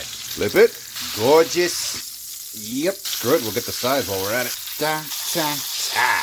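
Steady frying sizzle of meat searing in a cast iron pan runs beneath someone talking in short bursts, with a brief louder clatter near the start as something is flipped in the pan.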